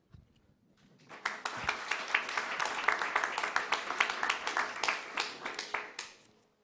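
Applause from a symposium audience rises from near silence into a steady patter of many hands clapping, moderately distant, then fades away after about five seconds.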